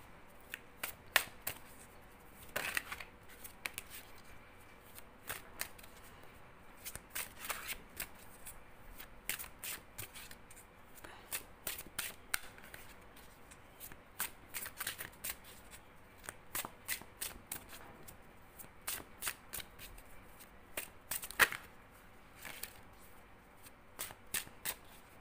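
Tarot cards being shuffled up close, a steady run of crisp riffling bursts and soft slaps repeating for about 25 seconds in a quiet room, with no talking.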